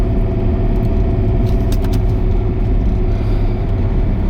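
A Range Rover L322 cruises along country roads, its engine and road rumble a steady, loud, continuous drone heard from inside the cabin.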